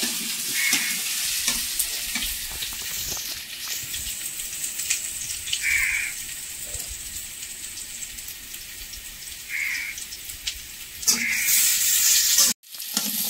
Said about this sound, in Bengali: আলুটা আমার ভাজা ভাজা হয়ে গেছে